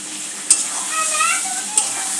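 Potatoes fry in spiced oil in a pan with a steady, moderate sizzle, and two sharp metallic clinks ring out about a second apart.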